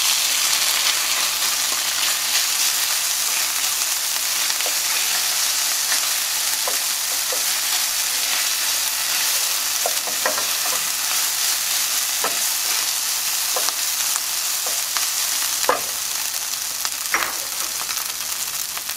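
Rice going into a pan of golden fried garlic, with a loud continuous sizzle and scattered stirring clicks and scrapes, close and unbroken throughout.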